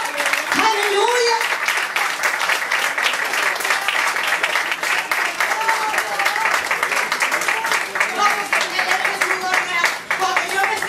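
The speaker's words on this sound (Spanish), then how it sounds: "den un aplauso a Dios" A church congregation at a Father's Day service applauds steadily for several seconds, a dense, continuous patter of clapping with voices calling out over it.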